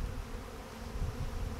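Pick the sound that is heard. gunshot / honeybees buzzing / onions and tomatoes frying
honeybees buzzing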